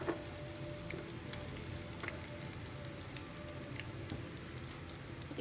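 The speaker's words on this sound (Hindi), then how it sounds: "अब घी में हम ये लहसुन डालेंगे।" Garlic cloves frying in hot ghee with a steady crackling sizzle, close and moderately loud, running continuously without talk.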